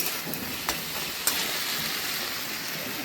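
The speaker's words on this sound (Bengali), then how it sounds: "টমেটোটা ভাজা হয়ে গেছে" Tomatoes and onions frying in a pan for a red mutton curry, giving a steady, soft, even sizzle with a couple of faint clicks and no voices.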